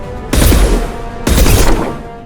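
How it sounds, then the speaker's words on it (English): Two booming sniper rifle shots in Mass Effect 2, each a loud sharp crack about a second apart with a long rolling echo tail, no talking. "We'll use a sniper rifle instead."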